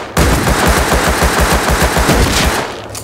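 Rapid automatic gunfire from a Tommy gun in a first-person shooter game, a loud sustained burst of evenly spaced shots lasting about two and a half seconds before cutting off.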